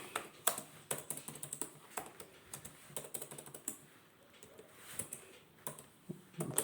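Rapid, uneven keystrokes on a computer keyboard, typed by a web developer entering HTML heading code. The clicks come in close bursts with short pauses, nearby and fairly quiet, with no talking.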